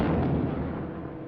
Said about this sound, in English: First torpedo should be hitting about now.